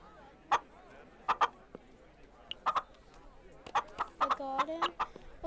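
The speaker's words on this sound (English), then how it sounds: "Chickens?" Chickens in the Minecraft Story Mode video game, clucking in short scattered bursts, some quick repeated clucks toward the end, fairly faint over a quiet game background.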